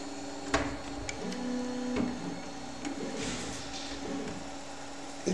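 A 3D printer's print head moves and primes its nozzle, giving a steady close mechanical whir with stepper-motor tones that shift pitch and small clicks, and no voices.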